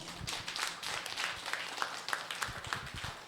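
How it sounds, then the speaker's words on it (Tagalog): A church congregation at a Sunday service claps for the Lord, a steady, moderately distant patter of many hands with a few sharper individual claps. "Palakpak ko sa Panginoon."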